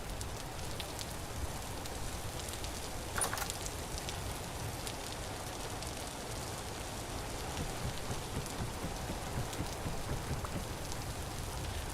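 Steady rain falls in the Vintage Story video game, a dense continuous patter of drops with a faint distant rumble, no voices.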